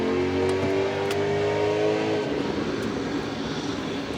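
A loud Chrysler 300 roars past with a droning, rising exhaust note that peaks and then fades into rough rumble, filling the whole moment without any talking.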